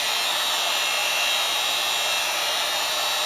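A heat gun on its low setting blows onto EVA foam, giving a steady, close, even hiss of rushing air that holds unbroken for the whole stretch with no voices.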